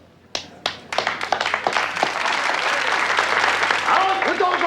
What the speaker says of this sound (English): Out with those applauders!